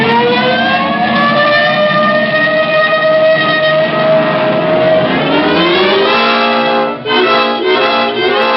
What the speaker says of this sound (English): This time you can use the siren.